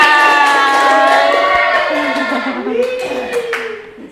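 A class of students applauds in a microteaching lesson, a steady patter of hands clapping mixed with voices and a singing tone over it, gradually fading out.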